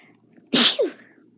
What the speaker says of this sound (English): Sneeze.